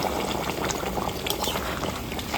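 Hot water poured into a pot of cooking mutton kosha gives a loud, continuous rushing, bubbling splash that fills the whole short stretch without any talk.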